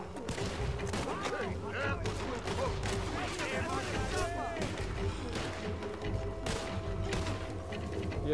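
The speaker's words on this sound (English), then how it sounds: "I'm shooting them in the field" Gunshots in Red Dead Redemption 2 sound in a field, with dense shots and mechanical clatter over a steady game background while a voice talks.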